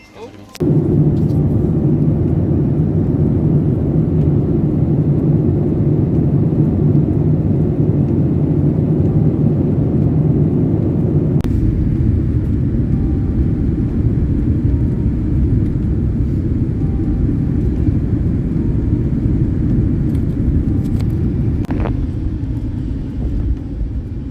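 Steady, loud low rumble of an airliner cabin during boarding for a flight to Japan, continuous engine and air-system drone throughout, with a slight shift in tone midway.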